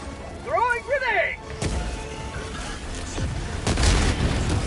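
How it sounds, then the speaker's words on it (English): A grenade explosion in a video game lands as a loud boom partway through, followed by rumbling debris and another blast, after a person speaks over the game sounds. "Throwing grenade."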